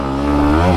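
A Yamaha MT-15 motorcycle's engine revs loud and close at launch in a 0–100 acceleration test, the pitch climbing steadily through the short burst.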